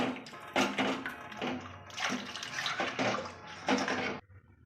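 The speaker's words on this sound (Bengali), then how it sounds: "এবার পরিমাণ মতন জল দিয়ে দেব" Water pours steadily into a pot of cooked, mashed red lentil dal with stalks, a close, continuous splashing stream that stops abruptly near the end.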